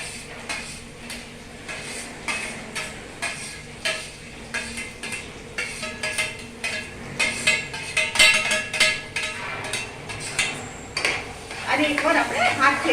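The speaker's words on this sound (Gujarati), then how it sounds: "હવે આપણે શું, તેલ ગરમ થઈ ગયું છે, આપણે આપણા કાંદા નાખી દઈએ તેલમાં." Five finely chopped onions dropped into hot oil and stirred in a pan: a sizzling, frying bed under repeated rhythmic clinks and scrapes of a utensil against the pot, close and fairly loud.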